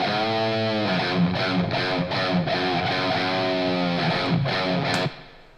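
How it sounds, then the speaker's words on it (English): A distorted electric guitar through a Tonex amp-modeling rig plays sustained chords with a washy reverb tail, loud and close, then the sound cuts off and lingers briefly in reverb. "So you can hear the reverb."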